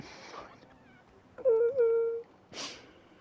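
A cat in a video game gives one drawn-out meow midway, fairly clear against a quiet background with a few brief soft noises before and after.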